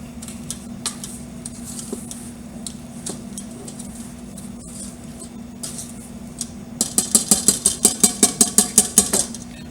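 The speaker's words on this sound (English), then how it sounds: "all I'm trying to do is mix all of our ingredients equally" Cake batter for a garden harvest cake being whisked in a bowl, with scattered clinks and scrapes early on, then a fast, even run of sharp rhythmic whisk strikes against the bowl near the end.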